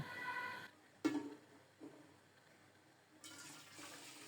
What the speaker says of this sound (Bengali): ফোটানো গরম জল দিচ্ছি।